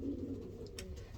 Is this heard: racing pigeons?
yes